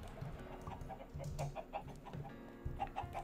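Chickens in the Minecraft video game give several faint, soft clucks scattered over a low ambient background.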